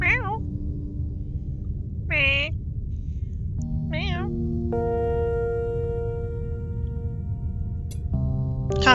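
A cat meows several times in short, separated calls, near and clear, over a quiet background of steady sustained tones.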